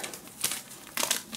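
A paper vanillin packet crinkles in two short bursts as it is emptied into curd batter in a home kitchen. The sound is close and dry, with no talk over it.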